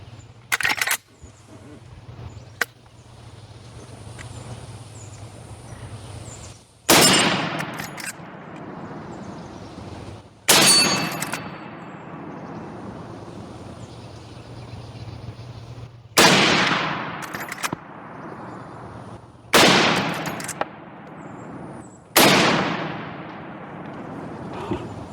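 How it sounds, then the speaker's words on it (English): Loud rifle shots from a Marlin 336 lever-action fired at jugs outdoors, six or seven sharp reports spaced several seconds apart, each with a ringing decay, no talking. "So let's shoot some more. I'll bust the rest of those jugs"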